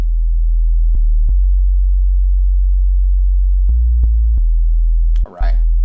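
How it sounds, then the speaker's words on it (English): Serum software synth sine-wave bass pitched two octaves down, a loud, steady low hum held throughout, with a few clicks and a brief voice near the end. "It's this sine wave with all the frequency modulation picked up from oscillator B that's going to make the bass work"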